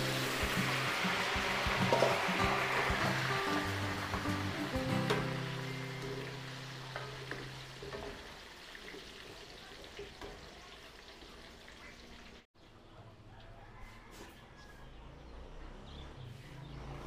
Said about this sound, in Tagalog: prito po tayo dito ng patatas and carrots.